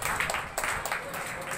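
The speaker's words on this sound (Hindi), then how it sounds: "उनके लिए भी एक जोरदार ताली मैं चाहूँगा आपकी तरफ से" Audience applause fills the hall at the closing of a two-day state-level kickboxing championship in Ladwa, 2019: dense, steady clapping from many hands, fairly close, with a faint voice underneath.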